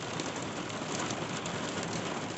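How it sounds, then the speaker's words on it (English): Heavy rain mixed with hail pounds down steadily outdoors at a historic ranch in Oregon, a dense, continuous hiss with no pauses or voices. "Pouring down rain, hail,"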